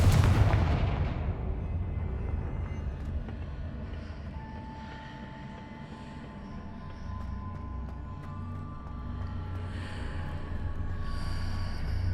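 A Confringo fire-blast spell in Hogwarts Legacy goes off as one sharp, heavy explosion at the start, then fades into a rumbling, crackling tail and low ambient drone, with no voices.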